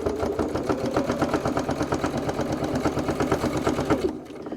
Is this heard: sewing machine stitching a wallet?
yes